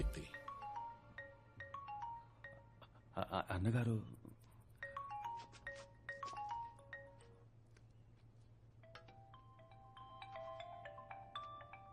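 A phone ringtone plays an electronic melody in short repeating bursts, fairly faint, with a brief loud clatter early on and low background hum throughout.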